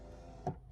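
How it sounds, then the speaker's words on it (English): A short electric whir from the power window of a 2005 Lotus Elise, one brief motor burst that is quiet and close. "And check it out. Power windows."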